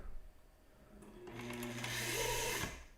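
A secondhand sewing machine whirs into a forward stitch after backstitching, its motor hum rising over about a second and a half, steady and fairly quiet up close, then cutting off.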